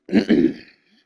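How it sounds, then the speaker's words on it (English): A man clears his throat with two quick, guttural rasping bursts close to the microphone, then falls quiet with a faint trailing breath. "geez, I have to clear my throat a lot."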